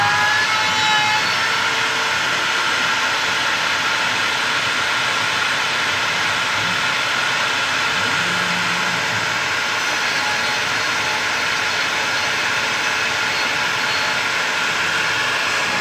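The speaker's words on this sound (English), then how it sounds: "I may slow down the spindle in just a moment." A CNC router spindle carves a 4x8 sign in a demo area, producing a loud, continuous high whine and roar that holds steady throughout with no talk.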